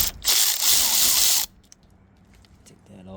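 A ratchet backs a 10 mm bolt out of a 2002–2006 Nissan Altima front door, a loud continuous clicking burst for about a second, then stops, followed by faint handling clicks and a short tone.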